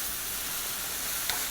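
Eggplant stir-frying quickly over high heat with no broth, a steady dense hiss and sizzle from the pan with one brief sharper crackle near the end.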